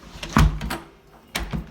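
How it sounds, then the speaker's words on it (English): A newly installed exterior front door swings shut with a solid thump and a latch click, then a second, lighter knock and click about a second later, close by and alone. "Door latches."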